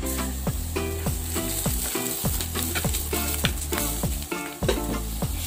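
Onions sizzling loudly in hot coconut oil in a pan, close and continuous, with regular scraping stirs of a utensil marking a steady rhythm over the frying crackle.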